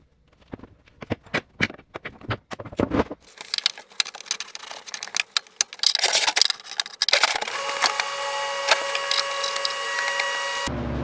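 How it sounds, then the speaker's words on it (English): A nut driver works on the radiator bolts of a 1992-1996 Dodge Dakota. Sharp, uneven taps and knocks come first, then a steady buzzing, whirring run that holds loud and close until it stops near the end. "I'm just going to use a nut driver and take those off."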